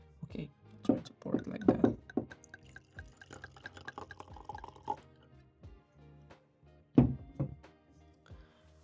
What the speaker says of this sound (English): Now we have to pour a little bit of this into the glass.